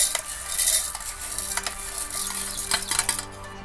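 Lentils are stirred and roasted in a pan, with scraping and rattling strokes and light sizzling up close, in short uneven bursts and no talking.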